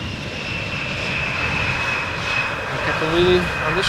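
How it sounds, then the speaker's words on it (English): An Embraer 190 airliner arrives at a busy airport runway, its jet engines producing a steady, moderately loud roar with a whining high tone, swelling slightly near the end amid outdoor ambience. "On this one, Embraer 190 having returned from Aberdeen."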